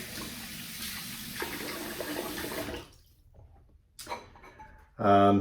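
Running tap water splashes as a face is wetted for shaving, a steady close hiss for a few seconds, then a near-silent pause with brief small bathroom noises and a louder burst at the end.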